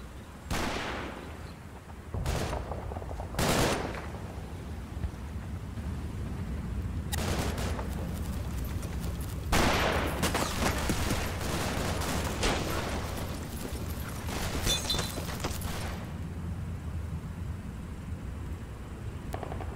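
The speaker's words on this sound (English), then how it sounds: "the heavy machine guns spotted a few already and they're opening up" Heavy machine guns opening up in the Combat Mission Fortress Italy war game, sustained bursts of automatic fire punctuated by loud separate cracks, rattling on and off throughout over a continuous low battlefield rumble.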